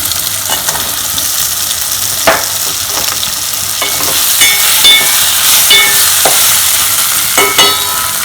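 Tomato and potato fry in a hot pan for Kerala egg curry, a loud continuous sizzle broken by repeated spatula scrapes and stirring clatter, with no talking.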